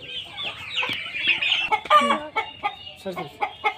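American Brahma chickens cluck and squawk in a new coop, a burst of close, irregular calls and short cries with a possible crow among them, over a few seconds.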